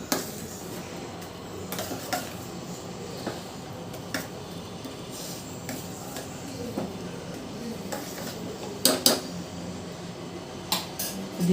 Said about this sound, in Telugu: ఇవన్నీ బాగా కలుపుదాము.